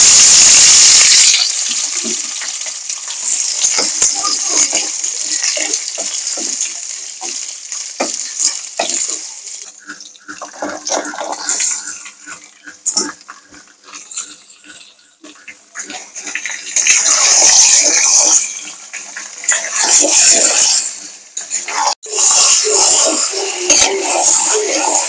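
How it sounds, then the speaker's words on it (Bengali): Onions frying in hot oil in a wok, a loud, steady sizzle with repeated stirring and scraping, dipping quieter midway before surging back up, with no talking. "এই পেঁয়াজটুকু সব দেবো কড়াইতে"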